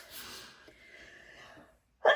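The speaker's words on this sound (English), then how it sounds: "I knew I had to sneeze." A single sharp sneeze bursts out near the end, close and sudden, after a stretch of quiet breathing and soft rustling in a home craft studio.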